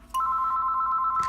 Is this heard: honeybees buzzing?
no